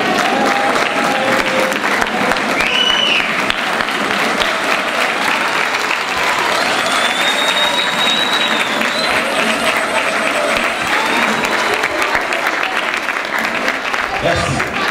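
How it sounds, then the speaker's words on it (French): Wedding guests at a marriage celebration in Liège give the newlyweds a sustained round of loud, dense applause, steady throughout with a few cheers mixed in. "de vous lever et acclamer encore une fois de plus le couple François Bazin et Rose-Aimée Fondandior."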